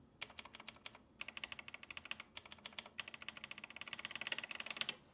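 Fast, crisp clicking of keys on a mechanical keyboard, steady bursts of typing with brief pauses between runs, close and clear.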